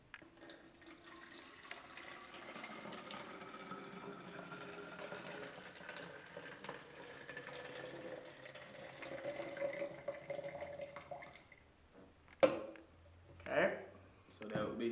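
Murky lake water poured into a Katadyn MyBottle purifier, a steady trickling pour running for roughly eleven seconds under quiet talk, followed by a few brief splashes.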